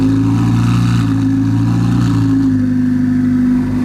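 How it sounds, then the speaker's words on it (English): A Ferrari supercar engine idles loudly with a deep steady harmonic drone, lifting slightly in pitch before settling back down, close by and continuous with no talk. "Everywhere I look, every time I turn around, there is another car starting."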